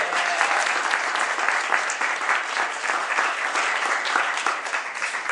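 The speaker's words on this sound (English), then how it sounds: "Yes, you can give her a round of applause." Audience applause at a reception in the Cleveland Public Library, a sustained dense wash of clapping from a crowd, steady and fairly distant, continuing for about five seconds with no talk.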